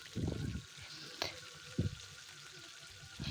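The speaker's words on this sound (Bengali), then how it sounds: "পুকুরের কাঁকড়াগুলো দিয়ে ভালো করে ভেজে নেব" Pond crabs fry in a pan with panch phoron, a faint steady sizzle underneath a few low thumps and one sharp clink as the pan is handled.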